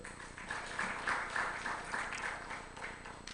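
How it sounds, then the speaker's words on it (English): A crowd claps together in steady, fairly faint applause, a dense patter of hands in a large parliamentary chamber during an ECOWAS Parliament session. "I think they deserve another round of applause."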